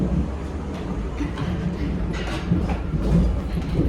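An empty Hamburg metro car rides along the rails, a loud steady rumble with faint rattling and clatter throughout, and no clear speech.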